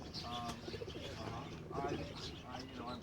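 Show pigeons coo in soft, repeated rolling phrases with a few chirps mixed in, set against a busy room murmur, and a voice talks over them.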